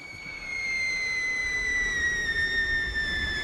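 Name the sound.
high-pitched whistling noise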